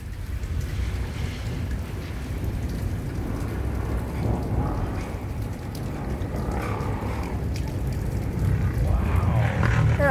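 Steady rain pours during a thunderstorm, a dense continuous hiss with gusty wind, heard close and fairly loud throughout without clear talk.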